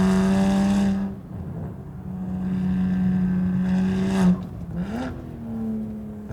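A tuned BMW 135i with an N54 engine at roughly 450 hp accelerates hard, its loud, steady engine note climbing through the gears with brief drops at the shifts. No one speaks.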